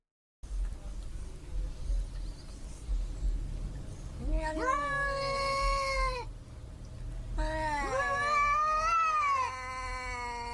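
Cats yowl and caterwaul in long, wavering cries, two drawn-out bouts over low background rumble, fairly close.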